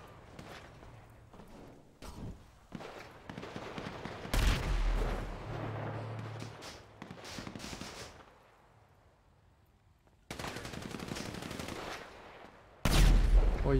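Gunfire in a shooting video game: scattered rapid shots and short bursts, some sharp and close, others muffled, separated by quieter gaps, with a loud burst near the end.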